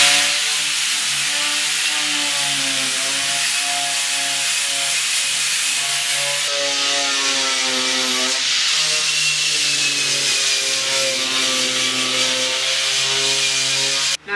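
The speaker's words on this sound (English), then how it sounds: "we are ready to grind and brush some floors" A grinder with a wire brush scours rust off the metal floor of a school bus, a loud continuous whirring grind that wavers in pitch as the tool bears down, with no talking.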